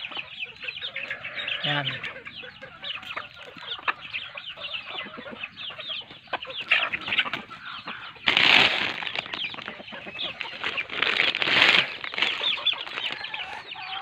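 Native chickens cluck steadily at close range, with two bursts of flapping wings and a brief spoken word.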